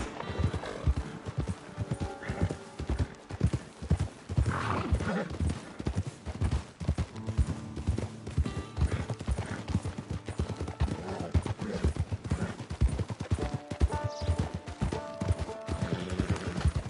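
Horse hooves clip-clop steadily in Red Dead Redemption 2, a continuous rhythmic trot with occasional snorts and neighs and faint game voices underneath.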